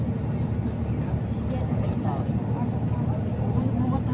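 A helicopter landing on top of a building gives a steady, distant rotor and engine rumble that continues throughout, with faint voices in the background.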